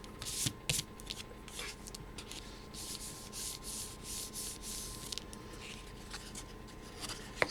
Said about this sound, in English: And we give that a rub.